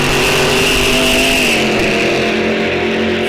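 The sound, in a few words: drag racing car launching off the line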